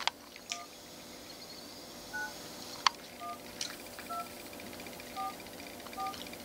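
Cell phone keypad tones sound as a series of short, clean dialing beeps, spaced irregularly and fairly soft, with faint clicks and a quiet room behind them and no talking.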